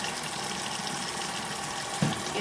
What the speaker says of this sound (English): I just put some water in here and let it rinse